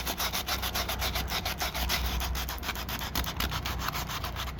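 Hand sanding with 150 grit sandpaper scores the surface of a bird bath being repaired, a steady back-and-forth rasping in quick regular strokes, close and alone.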